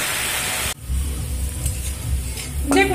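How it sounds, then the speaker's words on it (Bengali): Chopped onion dropped into hot oil with garlic, a loud steady sizzle at first that dips sharply, then continues as a softer frying crackle with a brief stir near the end. "কোচানো পেঁয়াজটা দিয়ে দেব, দিয়ে আরেকটু ভেজে নেব"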